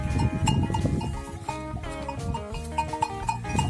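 Sheep bleat at close range over a busy, shifting background of tonal sounds, with a few faint metallic clinks.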